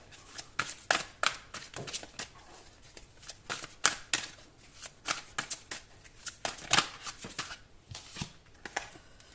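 Tarot cards being drawn and handled close up: quick, irregular flicks, snaps and slides of card stock in bursts, crisp and near, with quiet gaps between.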